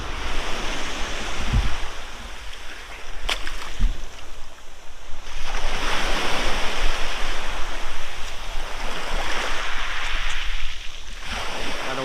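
Waves breaking and washing at the water's edge on a coast at a surfcasting spot, a steady loud roar that swells and recedes in slow surges, with wind buffeting the microphone and a few brief knocks.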